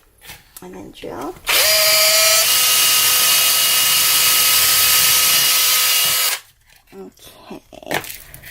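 A Dremel drills a hole for fitting rings to a Naked Cow traveler's notebook, with a sustained loud, high whine of about five seconds between brief stretches of talk.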